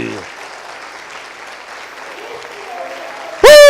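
A church congregation at a Sunday morning service claps in a broad, sustained wash of applause heard at a moderate distance, ending abruptly as a loud, strained voice cuts in over it.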